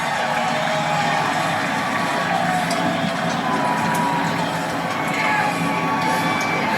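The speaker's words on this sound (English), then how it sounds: "The crowd here at the Charlotte ROVAL appreciating what they just saw out of Christopher Bell." Race fans at the Charlotte ROVAL cheer and whoop in a dense, sustained roar after a NASCAR playoff win, the crowd heard at some distance.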